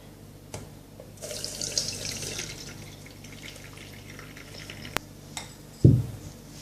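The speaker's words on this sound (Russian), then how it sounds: "Сливаем мак через сито." Soaked poppy seeds and hot water pour through a kitchen sieve, draining as a short running trickle into a sink, followed by a few faint drips and a closing clunk.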